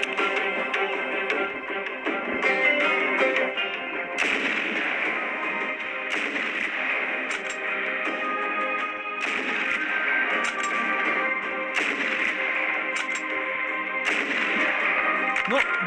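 Sharp, repeated gunshot cracks from sniper rifles fire at uneven intervals in the arcade shooter Desert 1943, set over a dense, loud wash of game music and effects.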